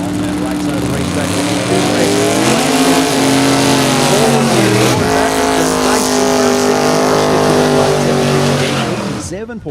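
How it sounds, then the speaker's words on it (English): A 1939 Ford Coupe with a big block Ford engine launches down a dragstrip against another car, loud roaring and revving engines that hold steady and then fade, under a track announcer's commentary. "Daniel Cross from Anderson, Texas, 39 Ford Coupe on the tower side of the racetrack with big block Ford power, taking on the Prospector out of Odessa, Texas, on that right side of the racetrack"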